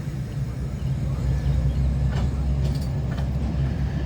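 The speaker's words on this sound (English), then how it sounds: "via train 79 is just ready to depart now" A VIA Rail passenger train departs with a low, steady rumble and engine drone that swells slightly, heard close by at a trackside railfanning spot, with no talking.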